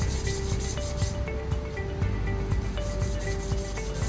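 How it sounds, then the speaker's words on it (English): Sandpaper rubs steadily against a plumbing pipe to clean it before a valve is fitted, giving a continuous close-up scraping hiss with a faint background hum and no talking. "Sanding and cleaning."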